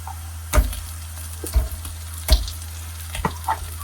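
Raw prawns frying in a pan with onion and green chilies, a steady sizzle punctuated by four sharp stirring clatters of a spoon against the pan.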